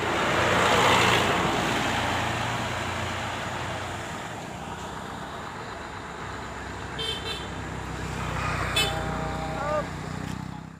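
Putra Pelangi Jetliner buses roll into the Pekanbaru terminal, with engine rumble and traffic noise throughout and short horn toots near the end. A voice talks over the vehicles.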